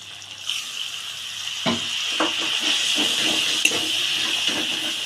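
Water poured into a hot pan while cooking stuffed pointed gourd dorma, a steady loud steam hiss rising after a few knocks and splashes, holding on without any voices.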